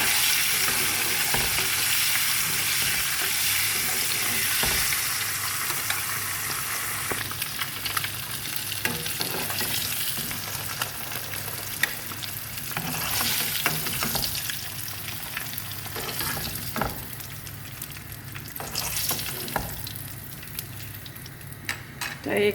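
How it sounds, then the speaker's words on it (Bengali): Eggs frying in oil with turmeric and salt: a continuous close sizzle with intermittent spatters and the scrape of stirring in the pan, and no voices. "ডিমগুলি বাইজা নিব"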